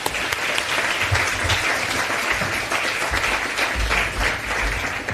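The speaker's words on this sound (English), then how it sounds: "with a big warm round of applause to welcome Caroline to the stage" Warm audience applause fills the room as a speaker is welcomed onstage at a technology conference, dense continuous clapping holding steady for several seconds with no talk over it.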